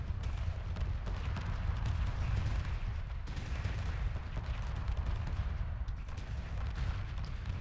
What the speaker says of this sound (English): their main batteries and missiles are firing at the target